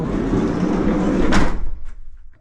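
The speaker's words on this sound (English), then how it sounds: "shut this door" A door is pushed shut on a small wooden build glued up with boards, giving one sharp knock that cuts through steady low background noise before fading into quieter rustles.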